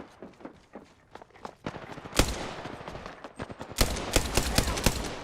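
Apex Legends gunfire in a match, with sharp repeated shots that start sparse and build into rapid bursts and a dense volley, mixed with footsteps and clatter.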